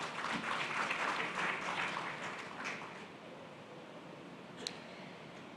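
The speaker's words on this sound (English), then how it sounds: "A round of applause for her, please." Audience applause for a panelist at a conference session: a soft, fairly distant patter of clapping for about three seconds, then tapering off into quiet room tone.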